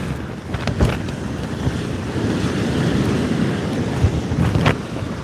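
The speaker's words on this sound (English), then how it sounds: "There's some seriously gusty wind." Gusty sea wind buffets a microphone on a fishing kayak at sea, a steady loud rumbling roar with stronger gusts swelling throughout, no voices.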